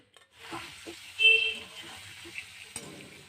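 Paneer coated with salt, chilli and turmeric fries in oil, with soft, uneven sizzling, a louder hiss burst near the middle and a sharp clack toward the end.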